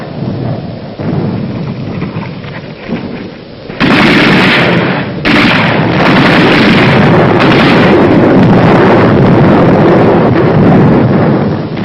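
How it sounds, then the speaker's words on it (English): World War II battle mortar and artillery fire as deep, rolling booms and a continuous heavy roar, loud and dense, with a sharp burst near the middle that stays intense to the end. "Mortar and artillery were deadly accurate by reason of excellent enemy observation from Mount Lungo"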